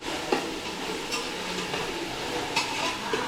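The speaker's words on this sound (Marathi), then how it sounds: "आता तेलात परतून घेते आहे" Steady oily sizzle of a tempering sautéing in oil in a pan, with a few sharp scrapes and clicks from stirring now and then.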